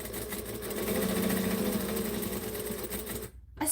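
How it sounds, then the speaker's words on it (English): Domestic sewing machine stitching at a fast, steady whirring pace for a few seconds, close and moderately loud, then stopping abruptly. "I swear my sewing machine sounds different today when it stitches."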